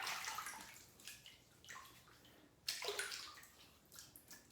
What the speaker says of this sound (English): I'm going to wet the face and we'll get started here.